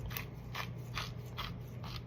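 A pepper grinder cranks over raw chicken pieces in five evenly spaced gritty ratcheting crunches, close and clear above a low steady background hum.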